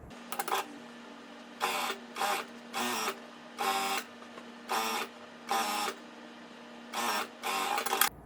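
A sewing machine topstitches the lining fabric of a handmade drawstring bag 0.2 cm from the edge, running in about nine short, even bursts of rapid whirring with brief pauses between them, close and fairly quiet.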